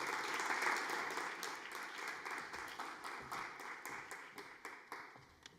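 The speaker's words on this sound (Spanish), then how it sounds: "Vamos a recibir a Cris Arana con un fuerte aplauso." An audience applauds, a dense burst of clapping that gradually thins out into scattered separate claps.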